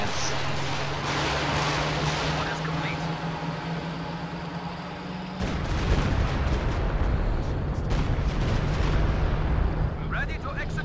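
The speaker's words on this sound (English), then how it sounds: "Stuka firing." Stuka rocket artillery firing in a video game, a loud roaring whoosh of launches over a steady engine-like drone, the rumble surging midway and continuing with crackling bursts while someone talks.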